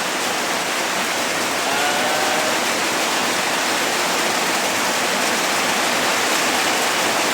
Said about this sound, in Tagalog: Grabe talaga yung ulan.